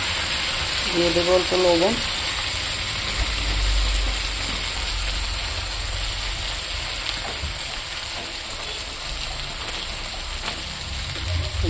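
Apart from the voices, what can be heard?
cauliflower frying in a pan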